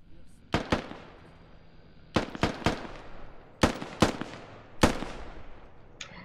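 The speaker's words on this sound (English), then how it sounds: "Oh, they're trying to destroy the radio with rockets?" Rockets strike and explode against a radio in the military shooter Squad, a series of sharp, loud blasts in clusters of two and three spread over several seconds, each trailing off into a rumbling tail.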